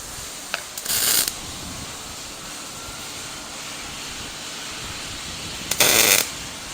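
A MIG welder lays two short tacks on a spare tire carrier built from junkyard parts for a Chevy-to-Ford van conversion, each a brief bright crackling burst about a second long, separated by several seconds of quiet shop hiss.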